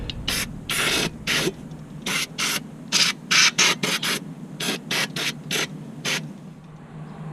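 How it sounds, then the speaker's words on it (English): Brake cleaner sprayed onto car parts during an oil and filter change on a 2012-2017 Toyota Camry 3.5 liter V6: a series of sharp, loud hissing bursts of varying length separated by short pauses, close by, no talking. "And a little bit of cleanup with some brake clean."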